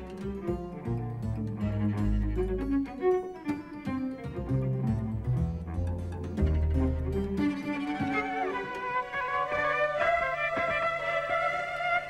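A cellist plays a cello wired to a computer-controlled hyperinstrument in a live United States performance, dense layered tones and shifting electronic textures swelling continuously and loudly throughout.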